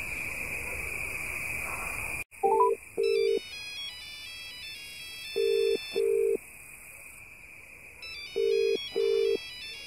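Phone dialing and ringing in a horror video game set in South Meraung Village: a quick run of rising electronic tones, then repeated paired ring bursts spaced by short gaps, with a high electronic whine droning throughout.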